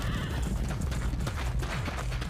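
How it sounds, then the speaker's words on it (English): Horse hooves clip-clop in rapid rhythm while the horse whinnies, loud and close, with a rumble of movement continuing throughout and no talking. "Two of them just got trampled by a horse."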